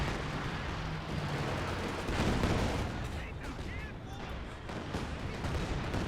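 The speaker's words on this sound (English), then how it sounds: "And Katusha's firing." Katyusha rocket artillery salvos in a Company of Heroes 2 4v4 battle on Hill 400 make a dense, continuous roar of launches and impacts that swells near the middle of the barrage, with a voice talking over it.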